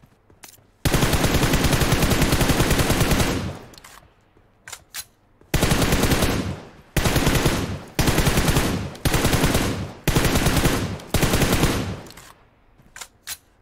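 Loud bursts of automatic fire from an MK gun in BGMI: one long sustained burst, then a run of shorter bursts of a second or so each with brief gaps between, plus a few faint distant shots.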